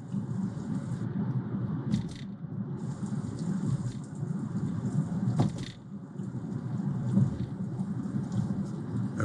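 Rainy-day ambience plays through the speakers inside a Kia EV6 GT Line S electric car, a steady patter and rumble of rain with a few louder drips, heard close and continuous without speech.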